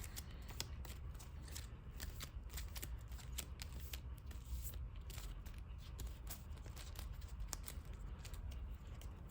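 Playing cards from a trading card game starter deck riffle and flutter in a steady, continuous shuffle, close and crisp, with no voices.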